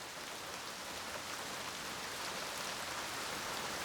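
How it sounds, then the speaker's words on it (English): Heavy summer rain pours down in the Odaigahara beech forest as a steady, dense hiss of drops on leaves and ground, constant and close with no pauses. "Summer is the season of heavy torrential rain."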